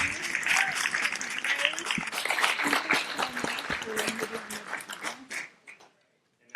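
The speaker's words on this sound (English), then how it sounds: "give them a great round of applause for their great work" Audience at a medical debt policy forum applauds warmly, with steady clapping and some voices mixed in, tapering off to quiet at the end.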